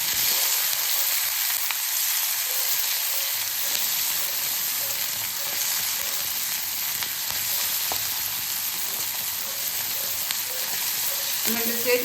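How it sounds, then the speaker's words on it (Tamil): Green chilies sauté in a pan with a continuous, even sizzle and hiss, with occasional faint stirring sounds throughout. "நல்லா வந்து வதக்கி விட்றலாம்"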